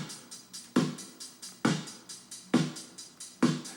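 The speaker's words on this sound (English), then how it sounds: "So there's the live drums, which are these bits here, which sound like this." Live acoustic drums recorded in a small studio with no kick drum: sharp snare hits and hi-hat ticks repeat in a steady groove, close and dry, with no voices.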